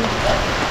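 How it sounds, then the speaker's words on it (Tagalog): A sudden heavy downpour, a thick, loud roar of pouring rain filling the whole moment without any break. "biglang bumuhos ang ulan"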